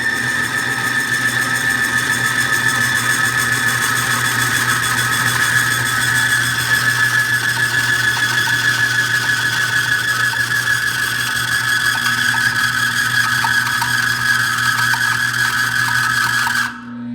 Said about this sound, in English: as we start loading the torque wrench here, we'll have some higher decibels of sound.